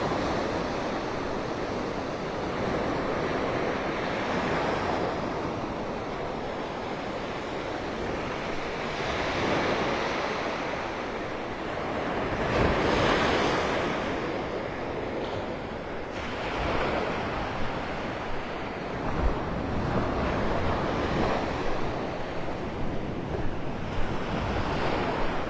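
Waves surging onto a Gulf beach at Delnor-Wiggins in North Naples, Florida, a steady roar of surf rising and falling in slow swells, mixed with wind buffeting the microphone.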